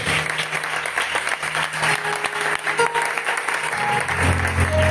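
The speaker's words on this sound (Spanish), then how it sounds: "Dale ese aplauso que el Señor lo merece." Church congregation applauding during a Spanish-language sermon, a steady dense wash of clapping throughout with a low hum and some voices mixed in, growing slightly fuller near the end.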